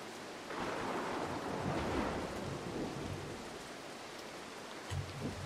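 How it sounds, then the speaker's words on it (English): Thunder rolls low and heavy beneath steady rain in the stealth video game Mark of the Ninja, the rumble swelling early then fading while the downpour hisses on, with a brief thump near the end. "Those flashes of lightning could give the guards a chance to spot you."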